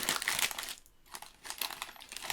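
A packet of Skips crisps being opened, close crinkly plastic rustling in bursts with a brief pause midway, no talking.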